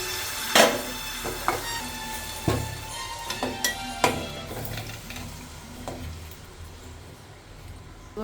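Potatoes go into a pan of braised meat and sizzle, with several sharp knocks and scrapes of a spatula against the pan as the pieces are stirred and fried, close by, then a softer hiss toward the end.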